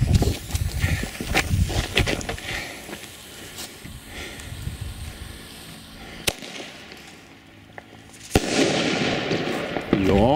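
A Nico Flashbang bomb tube firework goes off outdoors with a loud crackling burst, followed by a sharp bang and more scattered crackles and rustling under background noise.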